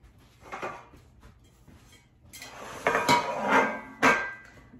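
A metal cake pan for a carrot cake clatters and scrapes as it is set into place, a soft knock followed by louder metallic bumps and a final clank, close by.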